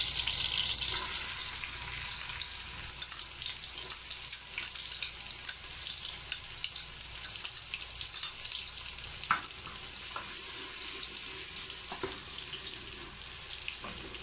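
Onions sizzling and frying in a pan with cumin seeds for maash ki daal, a steady close hiss with occasional stirring scrapes and no talk.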